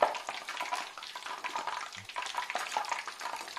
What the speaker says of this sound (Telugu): ఒక్కొక్కటిగా రెండో వైపు కూడా ఇలా టర్న్ చేసుకుంటూ ఫ్రై చేసుకుందాం